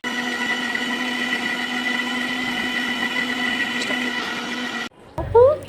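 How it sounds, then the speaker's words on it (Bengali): An electric blender whirs through mayonnaise ingredients with a steady, loud motor whine for about five seconds, then cuts off abruptly, followed by a short burst of other noise. "সবগুলো উপকরণ এখন একসাথে ব্লেন্ডার করে নেব।"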